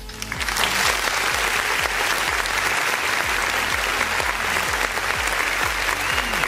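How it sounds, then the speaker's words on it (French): Steady applause from a crowd during a Rennes–Guingamp football broadcast, dense continuous clapping filling the whole stretch at an even level behind a regular low rhythmic pattern, with no clear talk over it. "on entend les applaudissements derrière toi"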